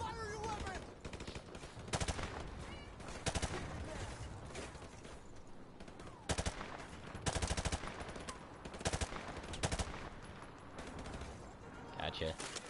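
Bursts of video game gunfire in a live multiplayer shooter session, rapid automatic volleys and sharp single shots recurring in clusters, loud and close, with pauses between.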